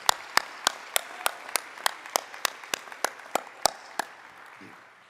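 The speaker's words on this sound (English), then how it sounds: "Can we give each other a round of applause for just being here?" At a high school senior assembly, about fourteen distinct, evenly spaced claps ring out, fairly quiet and sparse, like a slow rhythmic clap rather than dense crowd applause.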